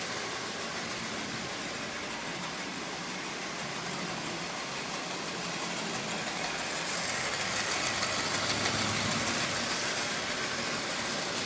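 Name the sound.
Lionel 8902 model train with Marx motor running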